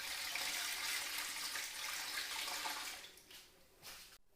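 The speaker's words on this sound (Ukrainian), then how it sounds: "Заливаю водою більше," Water pours steadily into a pot holding canning jars of cherries, with a full, rushing splash, then thins and trails off into a few last trickles.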